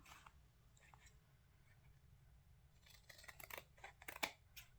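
Scissors snip through fabric around the edges of a cabinet card: quiet, close crunching cuts that cluster into a quick run of sharp snips near the end over a low background hum.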